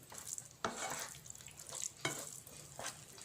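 A spatula works mashed roasted eggplant around a pan for baingan bharta. Soft scraping strokes come every second or so over a faint low sizzle, quiet and close, with nobody talking.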